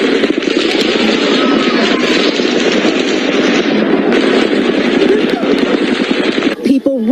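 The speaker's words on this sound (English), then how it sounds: "Police say the barrage of bullets were fired from the 32nd floor of the Mandalay Bay." Sustained, dense gunfire from the Las Vegas Mandalay Bay shooting, bullets fired from the 32nd floor onto a concert crowd, crackles nonstop as rapid automatic bursts, loud and unbroken, with crowd noise mixed underneath.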